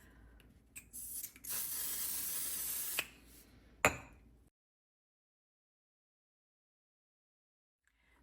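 One Size On Til Dawn makeup setting spray misting from its bottle: a couple of short pumps followed by a sustained, close hissing burst of about two seconds, then a sharp click before silence.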